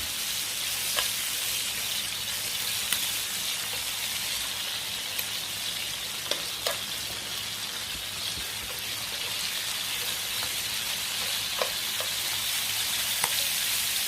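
Abalone grilling in plenty of butter in a pan crackles with a constant dense sizzle, close and even, with scattered little pops and spits breaking through over the whole stretch.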